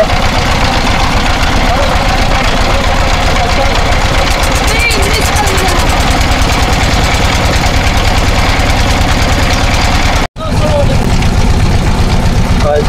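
A small colourful passenger boat's motor runs at close range on a wetland lake in Naogaon, a loud steady throbbing drone that drops out briefly near the end and then resumes, with people talking over it.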